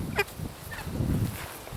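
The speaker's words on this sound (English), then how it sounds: "Look at the meat birds now, how healthy and beautiful they are." Meat birds on an off-grid homestead honk and call, with one sharp honk near the start and softer calls after it, close by over a breezy outdoor background.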